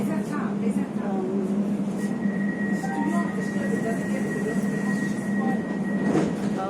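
A fully automatic metro train runs with a steady loud rumble and a low hum, plus a thin whine and faint wheel noise throughout. People talk over it.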